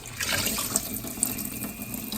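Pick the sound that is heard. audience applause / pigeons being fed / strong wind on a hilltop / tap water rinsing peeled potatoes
tap water rinsing peeled potatoes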